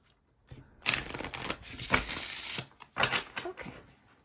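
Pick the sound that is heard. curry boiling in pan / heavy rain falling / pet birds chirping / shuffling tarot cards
shuffling tarot cards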